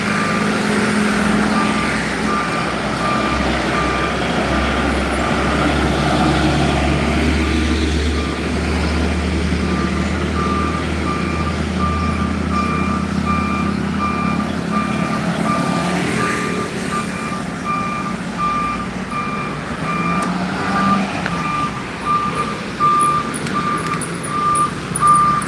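Busy town-centre road traffic in Barru, with a steady roar of passing vehicles and trucks and a repeating reversing beep running throughout.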